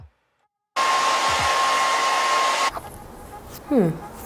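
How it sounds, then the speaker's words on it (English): A handheld blow dryer runs loud and steady for about two seconds while a lace front wig is being styled, then cuts off, leaving faint room noise and a brief squeak. "Pull out your blow dryer."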